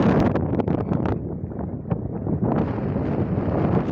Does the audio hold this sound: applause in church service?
no